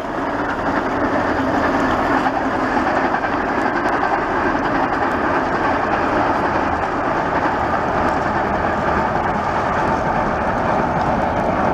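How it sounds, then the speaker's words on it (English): A Waratah electric passenger train rolls across the Meadowbank rail bridge, a broad, steady rumble with a dense rushing roar held at constant loudness throughout. "And now we have a Waratah just crossing the bridge for you guys."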